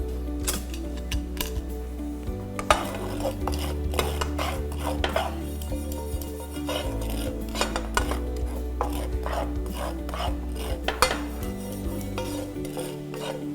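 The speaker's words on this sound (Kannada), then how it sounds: "ಒಂದು ಸ್ಪೂನಷ್ಟು ಗಸಗಸೆ ಓಕೆ ಇದಿಷ್ಟು ಚೆನ್ನಾಗೆ ಹುರ್ಕೋತೀನಿ" Mace and a spoonful of poppy seeds are dry-roasted in a pan, with steady scraping and clinking of a spoon against metal over a continuous low hum, with no talking.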